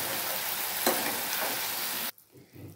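Mushrooms fry and get stirred in a pan, a dense loud sizzle with a scrape or two, cutting off sharply near the end into near quiet with faint clatter.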